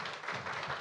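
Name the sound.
audience applause of thanks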